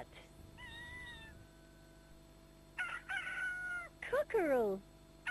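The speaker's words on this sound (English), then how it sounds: "Cockerel." A cockerel crows loudly and close by, in a multi-part call with a falling tail, shortly after a brief meow, over a faint steady hum.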